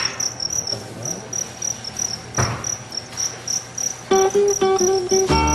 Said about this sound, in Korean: 귀뚜라미입니다.